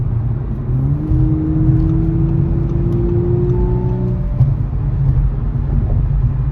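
An Audi S5 with a 2-litre engine driving along on rough roads: a steady low drone with a faint rising whine as it picks up speed, heard from inside the cabin with no talk.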